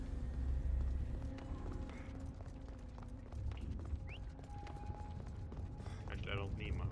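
Horse hooves clip-clop in a video game, a steady rhythmic trotting under game sounds and talk, with occasional metallic effects.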